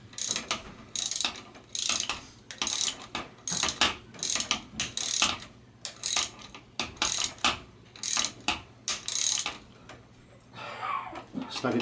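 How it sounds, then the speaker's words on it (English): Ratchet wrench snugging a bolt on a Rock Shox Jett C bicycle suspension fork, heard as a close series of rapid pawl clicking bursts in an irregular back-and-forth rhythm, with faint low hum between strokes. "Snug it down with my ratchet wrench,"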